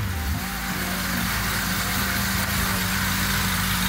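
A Porsche 911ST flat-six pulls away from rest, its rough, thrumming engine note close and loud, with a step in the revs just after the start and then a steady, heavy drone.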